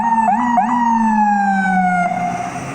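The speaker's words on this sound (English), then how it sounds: "the ambulance be loud for nothing, man" A loud ambulance siren wails nearby, its pitch jumping twice before sliding slowly downward in a long falling tone.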